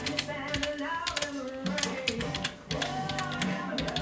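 Slow, hesitant hunt-and-peck typing on a computer keyboard while filling in a Google Form, with irregular key taps spread unevenly across the clip over low background sound.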